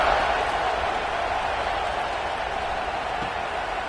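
A football stadium crowd at an FCS East versus Washington game sends up a steady, dense roar of cheering that holds loud and unbroken throughout.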